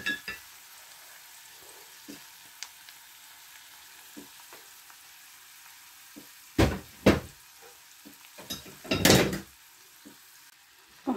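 Onions browning in a pan for a meat tagine, with a quiet steady sizzle punctuated by scattered clinks and a few louder stirring and scraping bursts.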